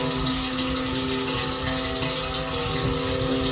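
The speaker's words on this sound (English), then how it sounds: "so right now I got it filling with some water." Water runs steadily into a metal tank being cleaned for reuse, a continuous broadband rush with a faint pump-like hum underneath, close and unbroken with no talking.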